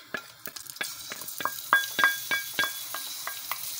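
Green chilies frying in mustard oil in a frying pan for a bitter gourd curry, with a steady sizzle broken by sharp, regularly spaced pops and crackles as the chilies spit in the hot oil.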